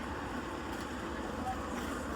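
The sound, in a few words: traffic at Esplanade bus stop, Kolkata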